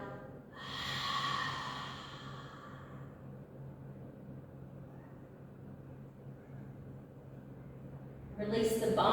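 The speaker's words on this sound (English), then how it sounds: "let out an extra exhale through an open mouth" One long, breathy exhale through an open mouth comes near and soft at the start and fades over a couple of seconds. Quiet room tone follows, and a short burst of rustle or breath comes at the end.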